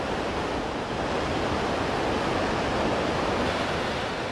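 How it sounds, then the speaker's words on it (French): Victoria Falls roars as a huge volume of water plunges more than 100 metres into the gorge. The rushing roar is dense, steady and loud, without a break, and no voice is heard. "Chaque minute, ce sont plusieurs centaines de millions de litres d'eau qui tombent dans l'abîme."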